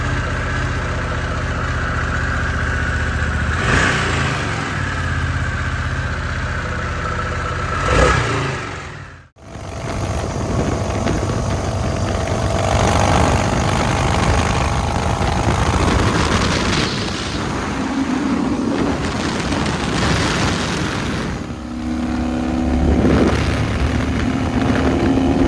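A Ducati Multistrada motorcycle engine idles and revs in bursts, loud and close, with a sharp cut to silence partway before it picks up again with rising revs and throaty rumble.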